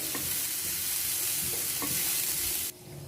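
Ridge gourd peel sautés in oil with a loud, close, continuous sizzle and a few spoon scrapes, ending in a sudden drop to a quieter hiss.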